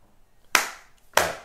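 A child claps hands twice, two sharp separate claps about half a second apart, close and clear in a quiet room.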